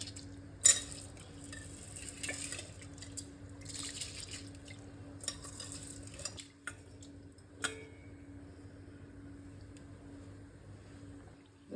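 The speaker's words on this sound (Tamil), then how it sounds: "இப்போ நான் அரிசியும் போட்டுப்போம்." Rice pours into a pot of water for pachai payaru sadam (green gram rice), with soft rattling and splashes, punctuated by a few sharp clicks over a quiet, steady hum.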